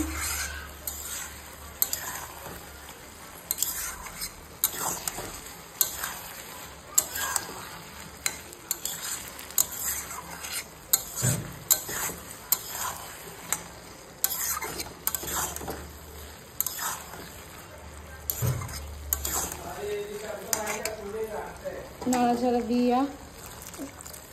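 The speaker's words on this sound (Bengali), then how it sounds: "জিরা গুঁড়া হলুদ দিয়ে নিলাম, দিয়ে আর একটু নাড়াচাড়া দিলাম" Cumin and turmeric stirred in a frying pan: repeated scraping and stirring strokes over a steady low sizzle, close and fairly loud, with a voice speaking at times.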